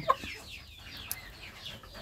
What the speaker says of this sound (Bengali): আমার টাইগার মুরগি দুটোটাই ডিম পারতেছে।